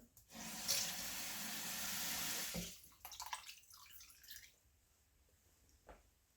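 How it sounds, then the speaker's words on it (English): Water gushes and splashes into a pan holding a ramen omelette for a couple of seconds, then cuts off, leaving quiet sizzling and a few faint clinks. "Just going to throw some water in there."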